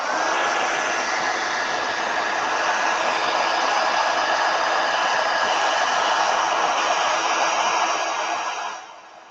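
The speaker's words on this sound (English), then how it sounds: "Heat gun." A heat gun blows steadily for several seconds to dry watercolor paint on an abstract neurographic artwork, a loud continuous whirring hiss with a faint whine that tapers off at the end, with no voices.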